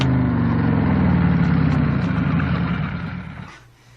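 A motorcycle engine idles close by, a loud, steady low rumble that holds for a few seconds and then fades away at the end, with no voices.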